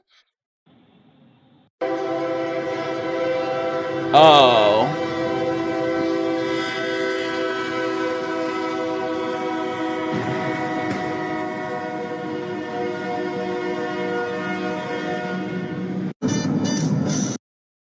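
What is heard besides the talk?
train passing at railroad crossing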